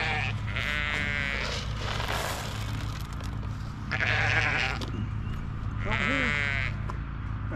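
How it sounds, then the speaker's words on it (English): Katahdin sheep on a farm bleat repeatedly in loud, close calls spaced a second or two apart, with people talking quietly between and under the calls. "those are awesome looking sheep"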